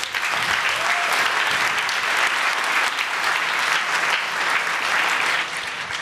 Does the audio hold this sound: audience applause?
yes